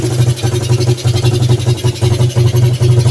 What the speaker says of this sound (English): Oh yes, it's idle great.